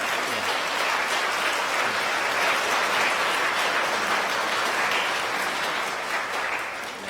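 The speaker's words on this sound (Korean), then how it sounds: "여러분들 환영의 박수 부탁드립니다." Steady applause from a church congregation during a Sunday service fills the room, loud and continuous, tapering slightly at the end.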